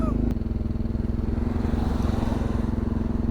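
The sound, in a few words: Solex motorized bicycle engine riding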